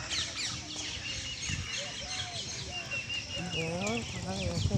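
Birds chirp and call in varied, overlapping bursts along an early-morning walking road where crows gather, with a low voice-like murmur and background hum underneath.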